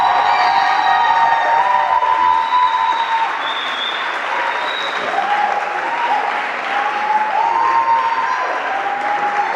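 A debate-session crowd applauds as a team member is introduced, steady clapping mixed with whoops and high cheers rising and falling over nearly ten seconds.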